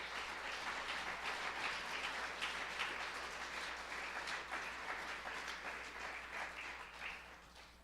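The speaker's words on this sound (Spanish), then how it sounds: "Dale un fuerte aplauso a tu Rey." A church congregation applauds, a dense, steady wash of many hands clapping that carries on for several seconds at some distance, easing off slightly at the end.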